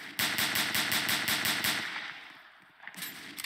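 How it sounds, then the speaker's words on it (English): Rapid gunfire in the Roblox game Emergency Response: Liberty County, with a loud, even burst of repeated shots that stops partway through and leaves quieter background noise. "Shots fired."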